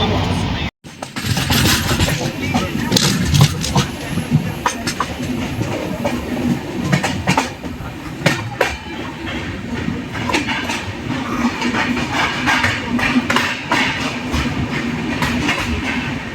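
Coromandel Express running from Chennai to Howrah, heard from inside the train as a steady rumble with clickety-clack rail rhythm and occasional clanks throughout, with faint voices mixed in.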